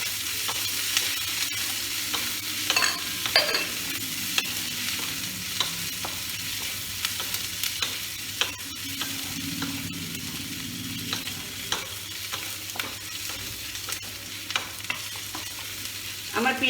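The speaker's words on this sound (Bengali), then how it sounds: "আমার পেঁয়াজও ভাজা হয়ে এসছে" Onions frying in a pan for chicken curry, a continuous soft sizzle with occasional scrapes and clinks of stirring throughout.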